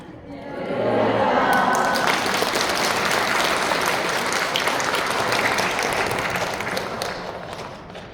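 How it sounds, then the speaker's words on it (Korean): A church congregation at a World Day of Prayer service breaks into sustained applause to welcome the pastor, a dense wash of clapping that swells within the first second, holds steady and loud, then tapers slightly at the end. "오른손을 들고 할렐루야 박수로 환영해 주시기 바랍니다"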